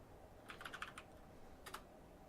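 A few faint keystrokes on a computer keyboard enter a new username: a quick cluster of soft clicks, a pause, then a couple more taps, quiet in a near-silent room.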